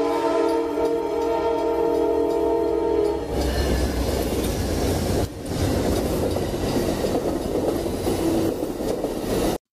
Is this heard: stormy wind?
no